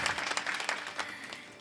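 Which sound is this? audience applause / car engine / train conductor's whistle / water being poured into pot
audience applause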